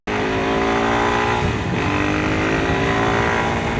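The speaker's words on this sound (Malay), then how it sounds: "Berlambak-lambak kereta atas jalan ni." Heavy road traffic at night, with many cars and a long lorry passing close by on a Malaysian road, heard as a loud continuous engine and tyre roar with a sustained droning whine and no speech.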